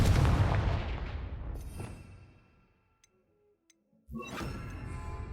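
The Confringo spell in Hogwarts Legacy goes off as a sharp blast that rumbles and fades over two seconds into near silence, with faint ticks, before another burst of effects kicks in.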